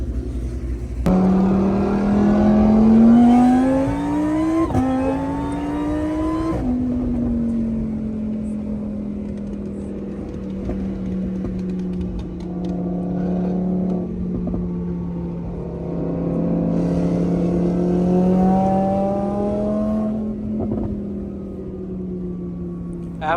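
Exotic cars including a Lamborghini at a car meet, engines revving with rising pitch sweeps and then cruising at a steady drone, loud and near, with wind buffeting the microphone.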